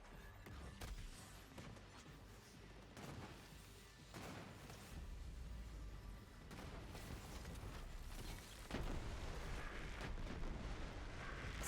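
Radiation element explosions from the shooter Borderlands 3 thud and burst repeatedly at irregular intervals, a muffled string of low booms building toward the end, fairly faint overall.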